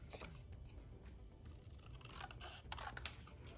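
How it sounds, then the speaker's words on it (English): Scissors cutting through painted paper in a craft project, soft crisp snipping and scraping strokes repeated close by, with no talking. "I'm going to go ahead and cut this"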